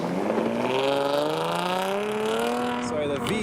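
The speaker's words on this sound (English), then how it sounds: "So we have the Ferrari 360 coming up next." A Ferrari 360 supercar leaving a car show accelerates past spectators, its engine note climbing steadily in pitch over a few seconds before a quick gear change near the end, loud and close.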